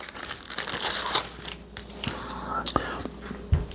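A plastic bag of Pelsee P12 Plus dash cam accessories rustles and crinkles as it is opened, with uneven bursts of crackling under a soft, close voice.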